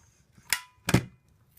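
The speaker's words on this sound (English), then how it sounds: "So just plonk it together and staple." A stapler snaps twice through strips of paper while a paper ornament is put together, two sharp close clicks about half a second apart in an otherwise quiet room.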